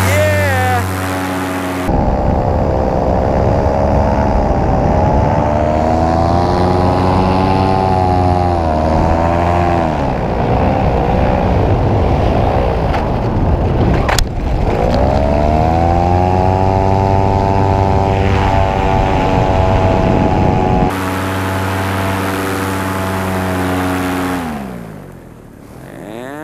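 A paramotor air trike from 2018 roars through its takeoff run, the engine and propeller loud and steady with rising and falling pitch as throttle changes, ending with a brief drop; a voice shouts briefly over it.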